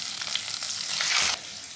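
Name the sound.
curry leaves sizzling in hot oil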